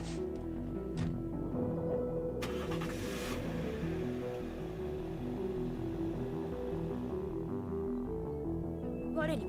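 A car pulls away and fades in the horror game Emio – The Smiling Man, a steady engine drone sitting under a bed of tense background music.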